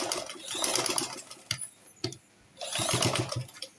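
A sewing machine back stitches fabric for a hip-length gown loop, running in two short bursts of whirring stitching with a brief pause and soft handling sounds between them.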